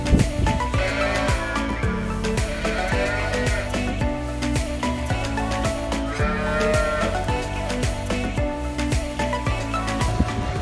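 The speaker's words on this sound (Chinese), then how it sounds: "现在这些小牛开始饿得一个接着一个叫的没完。" Hungry young calves penned on a New Zealand dairy farm bawl one after another, their repeated calls rising over a dense, continuous bed of farm noise.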